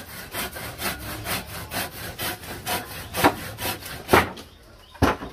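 A hand saw cuts through wood at a house construction site, with steady rhythmic back-and-forth strokes close by that slow into a few heavier final strokes.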